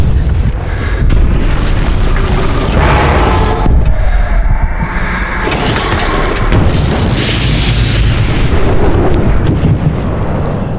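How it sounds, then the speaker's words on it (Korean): Heavy explosion effects from an action film, a continuous loud rumbling roar of booms and blasts that fills the whole stretch, with shifting bursts and no speech. "사실적인 폭발 연출은 이후 많은 영화들이 참고하는데"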